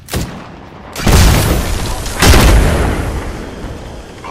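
A frag grenade going off in the battle-royale shooter Apex Legends, heard as two loud, close booming blasts about a second apart, each with a long rumbling decay, following a brief earlier pop.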